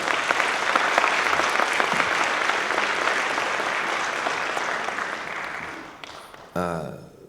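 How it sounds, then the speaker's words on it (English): Audience applause at a talk, a loud, dense burst of clapping that gradually fades over several seconds before a speaking voice cuts in near the end. "you can clap for that"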